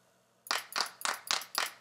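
Sampled group hand claps from the Groove Agent 4 percussion kit: five crisp, full claps in a steady, evenly spaced rhythm, close and loud with nothing else around them.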